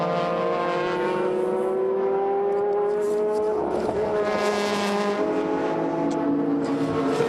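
GT300 and GT500 race cars howl past on the Motegi circuit during a Super GT 300 km race, with loud, continuous engine notes that sweep in pitch as several cars pass close together, and no commentary over them.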